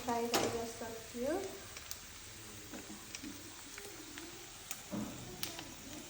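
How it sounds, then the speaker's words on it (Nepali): Chicken meat frying in a pan for homemade achar, a soft steady sizzle with a few stirring scrapes, fairly quiet, with someone talking over it. "यस्तै गरी अरू पनि मासु फ्राई गर्दै जान्छौँ।"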